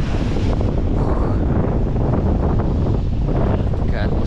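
Strong hurricane wind on the Gelendzhik seafront roars steadily into the microphone, a loud continuous buffeting rush with faint sea and surf underneath, while someone speaks briefly over it.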